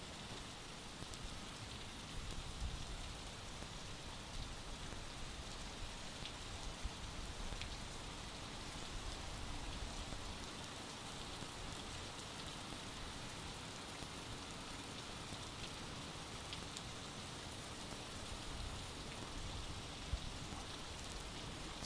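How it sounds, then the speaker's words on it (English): Steady, fairly faint rainfall hissing evenly on surfaces at Gerald R. Ford International Airport in Grand Rapids during a thunderstorm, continuous and unbroken with no talk over it. "use the opportunity now of the rain and the thunder to relax"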